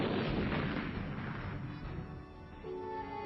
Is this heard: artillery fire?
yes